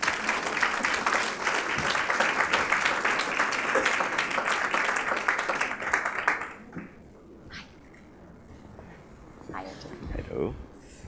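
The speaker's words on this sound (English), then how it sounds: "So please give them a round of applause" Applause from a conference audience for the panel guests at a luxury industry event fills the room for about six seconds, dense and steady, then fades into quiet room noise as a voice begins speaking.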